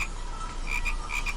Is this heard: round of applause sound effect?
no